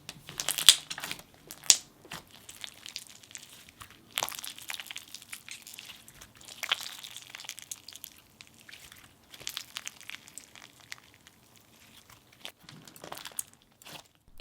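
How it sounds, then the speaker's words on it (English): Slime being squeezed and worked with the hands, giving soft scattered pops and crunches in irregular bursts, close and fairly quiet. "It has some decent pops and crunches too"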